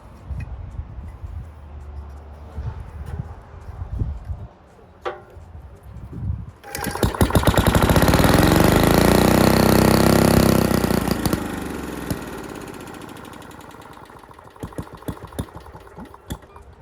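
A Briggs and Stratton Model 9 engine starts after a few sputters and knocks, then runs loud and steady at low speed with a rapid chugging beat before dropping back to rough, faltering pops.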